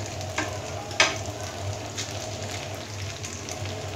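Chicken spaghetti mixed with crumbled eggs fries over high heat, a steady close sizzle with occasional stirring scrapes and a sharp clink of a utensil near the start.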